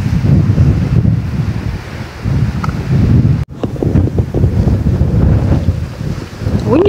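Strong wind buffets the microphone while a cast net is thrown for tilapia from a boat on the water, a loud continuous roar with a brief drop in the middle.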